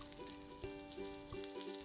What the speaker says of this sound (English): And now we're gonna add in the beef slices, the sauce,